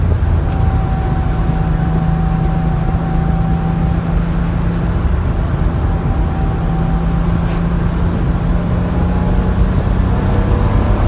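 A 1989 Porsche 911 Carrera Club Sport engine drones loud and close, holding a steady, sustained note for about eleven seconds with no voices over it.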